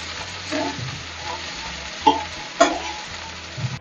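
Siru keerai spinach wilts in a hot pan with a steady sizzle, punctuated by a couple of sharp spatula knocks and stirring scrapes close by.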